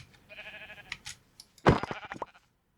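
Sheep bleating in a video game, a short wavering bleat followed by a second, louder burst, with some soft clicking around them and no talk.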